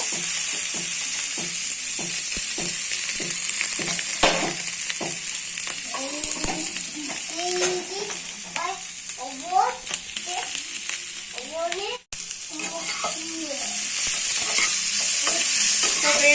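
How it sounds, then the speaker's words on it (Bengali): Spice masala lightly frying over a low flame for a Bengali aloo jeera with potatoes and cumin, a constant close sizzle with repeated stirring scrapes and clinks, loud and without voices. "মশলাটা আমি হালকা ভাজা ভাজা করে নেব।"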